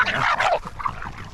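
A small dog on a farm yips and barks in quick, high-pitched bursts, close and fairly loud, with a whimpering edge and no talk.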